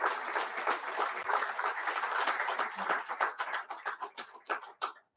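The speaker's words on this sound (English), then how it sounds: "Let's give our sponsors a big round of applause." An audience applauds sponsors at a defense industry coffee series event, a dense wash of many hands clapping that thins out toward the end into scattered individual claps.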